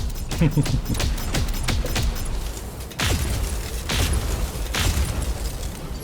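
BattleTech weapons fire in a rapid volley of booms and mechanical bursts, loud and close, followed by heavier blasts spaced a second or so apart, with voices talking underneath.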